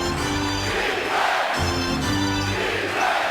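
A packed basketball crowd at Madison Square Garden in a tight three-point game with 45 seconds left reacts with a loud, sustained roar that swells and dips slightly but never stops.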